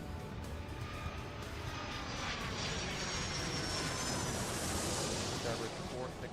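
A propeller airplane roars steadily in the Airport Madness 3 air-traffic game, a continuous broadband engine drone that builds gradually as it takes off, with no break in the sound.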